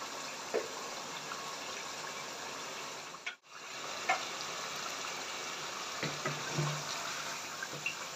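Mutton trotters frying in a pot with some water still inside, a steady close sizzle and bubbling hiss that runs throughout with a few faint clinks and no talk.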